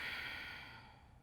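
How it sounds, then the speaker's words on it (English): A single deep, slow exhale during a yoga session, breathy and close, fading gradually over about a second with no speech. "One more generous breath here."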